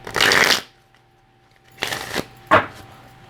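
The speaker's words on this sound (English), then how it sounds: "Let's give it one shuffle here." Tarot cards riffled in a quick burst, a pause, then two more shorter shuffles close by, crisp and papery.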